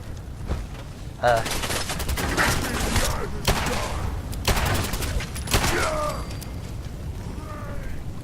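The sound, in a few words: gunfire from behind in Fallout 4 VR video game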